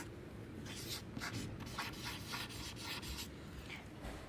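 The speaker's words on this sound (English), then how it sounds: "I'd like you to write that in your notes now" Pens scratching on paper as students write notes in a classroom, a quiet steady scribbling with faint rubbing strokes and soft room noise.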